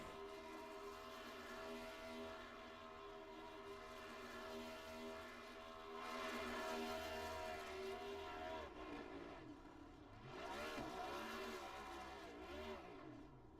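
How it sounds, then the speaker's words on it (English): A sprint car does burnouts and donuts on the front straightaway at Charlotte in an Outlaws race, its engine a steady, distant, droning roar with rising and falling swells as it spins, no voices over it. "Pretty decent burnouts, if I might say so."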